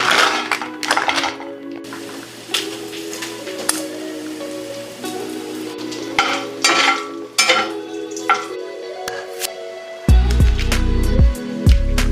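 Breakfast sausage and bacon frying in a pan, a steady crackling sizzle running throughout with occasional utensil scrapes and taps, ending in a few louder clatters near the close.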